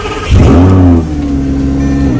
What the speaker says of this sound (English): A little cold start action for the morning.